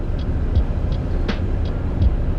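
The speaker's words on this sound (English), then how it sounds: "the train just going back and forth" Train rolling slowly back and forth at a crossing while a truck waits in the snow, a steady low rumble with periodic clunks of wheels over rail joints, continuous and fairly close.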